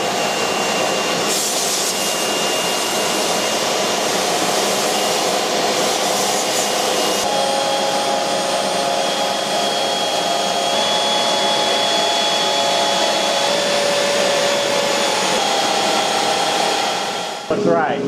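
A CNC router cuts a casting pattern for bronze sand casting, giving a loud, steady, continuous whine and roar that runs unbroken for about seventeen seconds and then cuts off sharply near the end.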